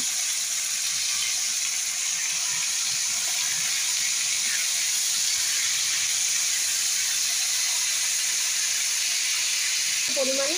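Beans, green chilies and onions frying in a pan, giving a steady, loud sizzle and hiss that runs unbroken from start to finish, with a brief clatter near the end.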